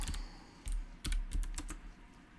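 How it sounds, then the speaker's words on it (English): Fingers type a chat message on a computer keyboard in quick, close bursts of clicking keystrokes separated by short pauses, with no talking. "So you can go ahead and type your message"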